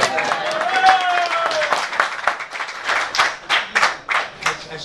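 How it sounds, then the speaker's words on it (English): Audience applause at a boxing press conference in New York City, with a cheer or whistle early on, then scattered claps that swell in bursts. "Bigger applause for Kery."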